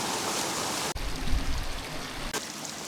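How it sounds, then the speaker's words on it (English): Spring water trickling and splashing steadily out of a mountainside on Kinder Scout, a continuous close rushing wash with a couple of brief bumps. "There you can see the spring water coming out of the mountain."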